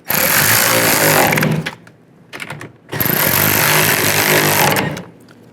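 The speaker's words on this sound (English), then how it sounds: "snug the nuts down" A power tool buzzes in two long, loud bursts separated by a short pause and a brief blip, snugging down the nuts on a side mirror of a 2008-2013 Nissan Rogue.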